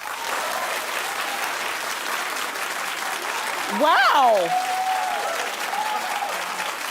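A television studio audience bursts into sustained applause, broad and even clapping that swells briefly in the middle while one voice exclaims over it.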